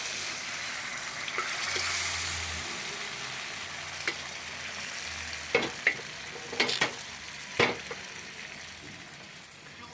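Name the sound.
dal poured into sizzling fried masala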